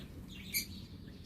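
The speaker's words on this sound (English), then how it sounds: "They can hear the voice, the noise of the birds here." A single brief high chirp rings out from a bird in a park aviary, faint over a low steady background hum.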